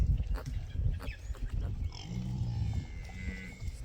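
Pigs and small piglets in a farm pen give close, snuffling grunts and low squeals mixed with rustling and movement, with a few higher squeaks amid the muddled noise.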